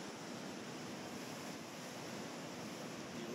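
Rough ocean surf pounding the rocks of the South Jetty at the mouth of the Columbia River in Oregon, a loud, continuous roar of breaking water mixed with wind buffeting the microphone.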